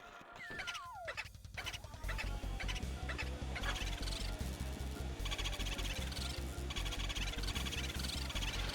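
A cuckoo clock in the video game Luigi's Mansion, heard faintly as a steady, evenly paced run of repeating mechanical tones after a brief sliding whistle.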